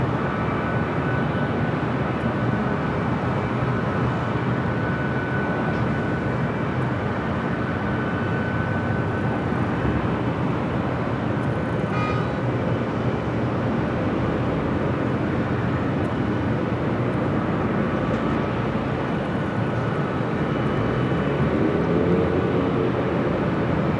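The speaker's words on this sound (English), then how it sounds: "Delta A321neo, next takeoff on the north side, 24 left." A Delta Airbus A321neo takes off from runway 24 left at Los Angeles International Airport, a steady distant engine roar that holds broad and even throughout.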